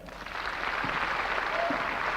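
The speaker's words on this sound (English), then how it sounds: "Sounds like an enthusiastic crowd out there anyway" Concert audience applauding and cheering at a memorial show, a dense steady wash of clapping from a large crowd that swells in over the first moments and holds, with no talk over it.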